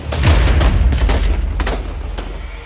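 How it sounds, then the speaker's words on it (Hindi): Heavy bomb explosions and rapid bursts of gunfire in Syria's war crackle together, loud and chaotic, with no voices. "बम धमाके, नॉन स्टॉप गोलीबारी"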